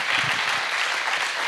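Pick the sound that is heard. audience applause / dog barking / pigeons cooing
audience applause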